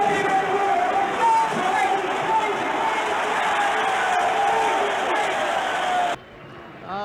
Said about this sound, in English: Burt, he's being booed because some people are front runners